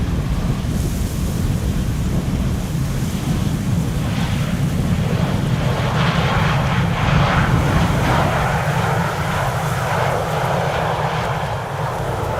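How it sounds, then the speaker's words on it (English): A KLM airliner arrives at Amsterdam Schiphol in stormy, windy weather, its engine roar steady and heavy beneath gusting wind buffeting the microphone. "KLM Flight 749 arriving from Cartagena is the first next airplane to arrive"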